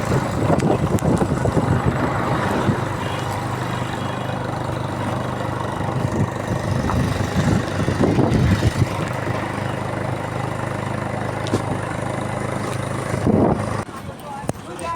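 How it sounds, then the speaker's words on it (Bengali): Engine of a motorbike being ridden to a crowded government-scheme camp, a steady mid-to-low rumble and road noise running throughout, with voices and bustle mixed in. "বাইকে করে চলেছি"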